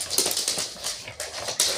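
Dogs whimper and let out short yips in uneven bursts, close by and fairly loud, with no speech over them.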